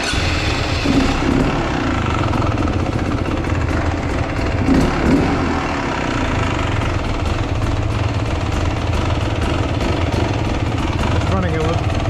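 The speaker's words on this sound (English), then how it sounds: "Let me see if I can start it real quick and get it running." A Beta Xtrainer dirt bike fitted with a SmartCarb carburetor runs at a rough idle, a close, loud, uneven two-stroke putter with irregular pops and knocks that continues throughout.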